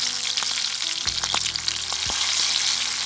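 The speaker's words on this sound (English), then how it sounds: "frying some green chili," Half-cut green chilies frying in hot oil for Sinhala and Tamil new year party appetizers, giving a steady close sizzle with crackling pops and a few scraping stirs, no talking.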